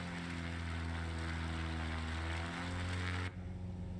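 A light aircraft engine drones at full throttle in flight, a loud, steady propeller hum with strong sustained tones that continues unbroken, then shifts slightly and dulls near the end.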